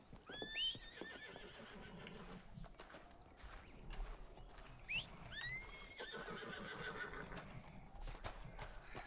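A horse whinnies twice in Red Dead Redemption 2, with loud, close neighs over soft hoof steps and a low outdoor ambience.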